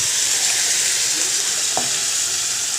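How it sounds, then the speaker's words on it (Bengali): Pressure-cooked boiled potatoes tipped into a hot kadai for Kashmiri alur dom, setting off a loud, steady frying sizzle that continues unbroken, with a faint clink near the middle. "যে আলুটা সিদ্ধ করে রেখেছি আলুটা দিয়ে দেব।"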